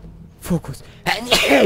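A single loud human sneeze bursts out close by, preceded by brief chatter in German from people playing an online game, with talking resuming right after.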